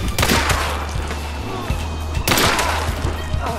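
Gunfire in the video game Hunt: Showdown, with a couple of loud sharp shots cracking out over a steady low in-game hum and general background noise.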